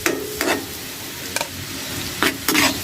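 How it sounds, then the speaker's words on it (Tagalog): Garlic sautés in butter in a pan, giving a steady soft sizzle broken by several short scraping stirs of the spoon against the pan. "gisa lang tayo ng garlic"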